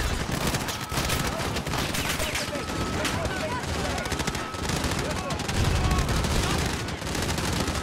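Rapid gunfire in a Modern Warfare campaign firefight: dense bursts of automatic fire and scattered shots crackle steadily throughout, with voices talking over the battle.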